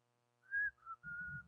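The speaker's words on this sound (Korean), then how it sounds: "찬송을 이렇게 살살 휘파람으로 불러줘" A person softly whistles a few notes of a hymn, three short clear tones, close and alone in a quiet room.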